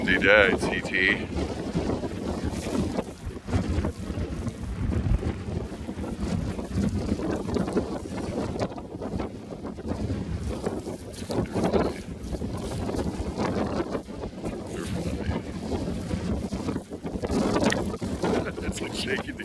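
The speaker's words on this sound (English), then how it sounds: "Pretty windy day, TT." Strong wind roars steadily across the microphone aboard a sailboat on a rough, blustery day at sea, a dense continuous rush with gusty surges that buries any other detail.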